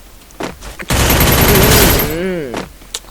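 A rapid burst of automatic fire from a P90 submachine gun in the video game Free Fire, loud and close for about a second, then trailing off with a voice briefly heard afterward.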